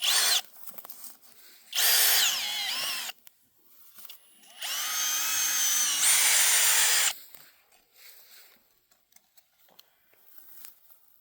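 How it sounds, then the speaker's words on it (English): A power drill bores into soil at a gopher hole on a farm. It whines in three loud bursts, the middle one long, with quiet rustling and digging sounds in the gaps. "I'm gonna drill it out"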